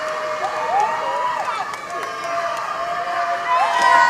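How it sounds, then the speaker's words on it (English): Traveling Pasadena City fans chant at a basketball game, a steady roar of crowd voices filling the gym with rising and falling shouts under other noise. "We're hearing a lot of noise chanted behind us for Pasadena City."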